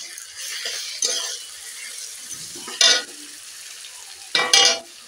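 Garlic paste hits a pan of browned onions, giving a soft ongoing sizzle broken by several louder bursts of spluttering and scraping as it is stirred, close up, with no voices.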